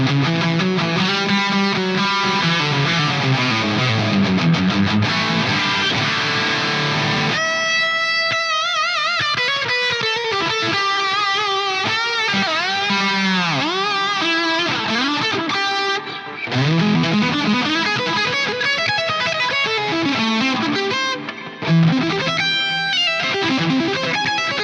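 A heavily distorted, high-gain Charvel USA Select DK24 electric guitar through an ADA MP1 preamp plays continuously, chugging riffs and sustained notes with bright, saturated tone and no voices.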